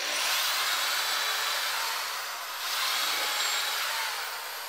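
Power drill boring holes into bunk bed wood, a loud steady whine that holds nearly unbroken for several seconds with only a brief dip midway.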